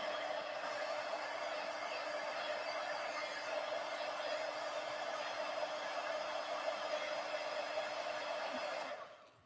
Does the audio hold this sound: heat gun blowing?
yes